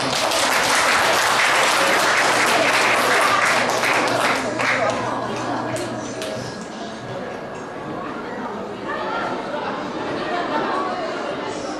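Guests at a Korean wedding ceremony applaud to welcome the officiant, loud sustained clapping that gradually thins and fades, mixed with crowd chatter and a faint clink of tableware.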